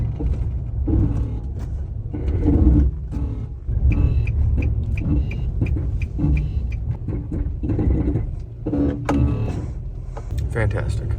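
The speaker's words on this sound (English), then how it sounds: "That sound you heard is the sound of the ABS system going off." ABS brake system activating while driving a Nissan Titan pickup truck, a rapid mechanical buzzing and pulsing heard in bursts over the engine and road rumble inside the cab, with someone talking over it.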